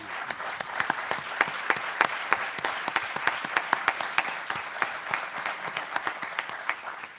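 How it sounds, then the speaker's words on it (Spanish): A philosophy congress audience applauds with a steady patter of claps, fairly distant and sustained throughout without letting up. "ahí viene el aplauso también desde allá para el pueblo argentino"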